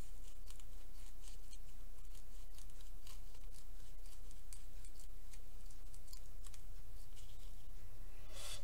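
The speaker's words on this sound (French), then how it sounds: "Je vais changer de ciseaux parce que les miens coupent très mal." Scissors struggle to cut paper for a Halloween bookmark, making faint, irregular snips and crisp ticking cuts over a low background hum, with no one talking.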